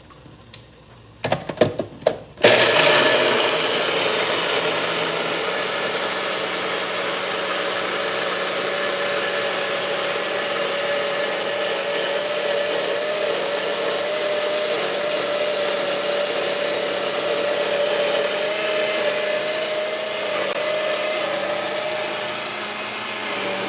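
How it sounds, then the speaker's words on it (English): A few sharp clicks, then a blender motor whirs up and runs steadily at a constant loud whine for the rest of the time. "You can use any blender you prefer, Ninja, Bullet, regular blender."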